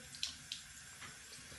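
Water runs and splashes at a bathroom sink during face washing with a foaming cleanser, a quiet steady stream with a couple of brief splashes and no talk.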